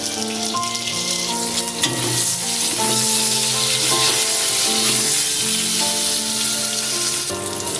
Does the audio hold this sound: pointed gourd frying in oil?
yes